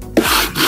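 Sanding belt rubbed by hand across a piece of wood, a short rough scraping stroke that starts with a sharp onset and holds a steady gritty rasp, close and fairly loud with no talking.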